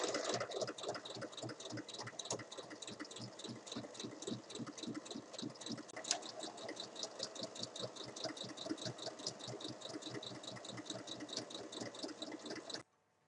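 A sewing machine stitches the bottom seam of a large fabric bag, its needle hammering in a fast, steady rhythm at close range for about thirteen seconds before stopping abruptly.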